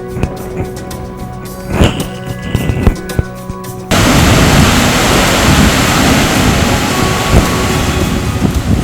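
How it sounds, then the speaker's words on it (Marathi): Heavy monsoon rain pours over the green Sahyadri hills, a dense, loud and steady roar that swells after a few seconds of quieter rushing water. "सध्या मुसळधार पाऊस या परिसरामध्ये सुरू आहे"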